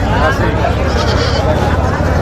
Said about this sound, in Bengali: অনেক ভেড়াও আছে